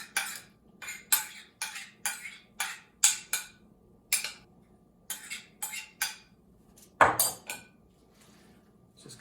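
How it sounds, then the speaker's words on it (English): Metal utensil clinks and scrapes repeatedly in a pan while cheese and egg are mixed into greens for a medieval herb tart, a steady rhythm of a dozen sharp close strokes with one heavier knock near the end. "Then I'll mix the cheese and egg with that in the pan."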